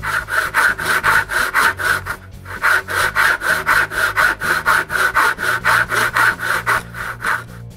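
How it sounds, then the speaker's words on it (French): Steady back-and-forth rasping of a hand saw cutting wooden pieces at an angle for a workbench, close and loud, with a short pause before the rhythmic strokes resume. "puis je les coupe le mieux que je peux en coin."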